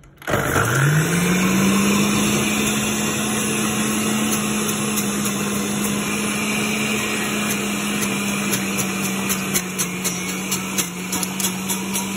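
A juicer spins up and runs loud and steady, blending fresh vegetables and fruit into juice. The motor whine rises at the start, then holds a constant drone with faint rattling from the chopped produce, close and alone without talk.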